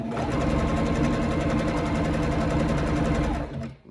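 A sewing machine hems the folded edge of stretch skirt fabric in one steady, close, loud run of rapid stitching that cuts off just before the end.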